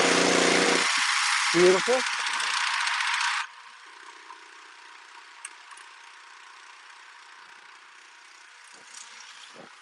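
A Honda small engine on an auger running loud and rough for a few seconds after its pull start, then cutting down to a much quieter steady hum, with someone briefly speaking over it.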